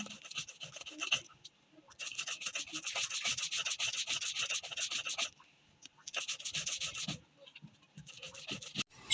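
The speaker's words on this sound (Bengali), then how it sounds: "এখন আমি সরিষা বেটে নিচ্ছি।" Mustard seeds ground by hand on a flat grinding stone, heard as rhythmic, close scraping strokes in several long bursts separated by short pauses.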